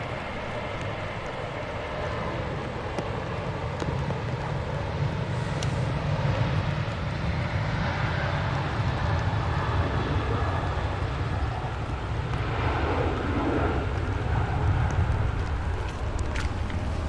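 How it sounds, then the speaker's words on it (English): A Ryanair airliner departs at Manchester Airport in wet, windy weather, its broad jet roar rumbling steadily and fairly distant, blended with wind and rain noise throughout. "Ryanair about to depart."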